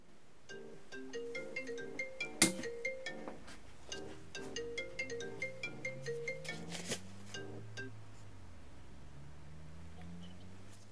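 A phone ringtone announcing an incoming call plays at an electronics bench, a repeated bright melodic ring pattern cycling several times over about ten seconds, with a low vehicle-like hum rising underneath toward the end.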